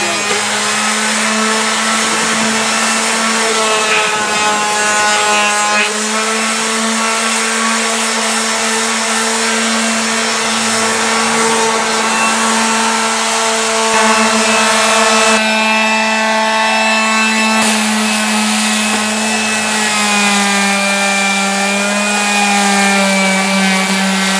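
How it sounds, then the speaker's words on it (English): Orbital sander running steadily on car body panels during a Ranchero restoration, a loud close continuous whine and buzz with slight shifts in pitch as it moves over the metal. "I got the orbital sander."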